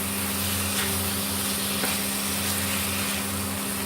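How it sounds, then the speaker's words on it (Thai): Seafood being stir-fried with curry paste in a hot pan gives a steady, close, even sizzle that continues without pause, with no talking. "ก็ผัดไปเรื่อยๆค่ะ"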